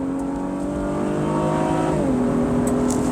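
An all-wheel-drive three-row SUV accelerates hard from a launch, its engine droning loudly and steadily close by. It climbs in pitch, then dips briefly at a gear shift and pulls on again, with no talk.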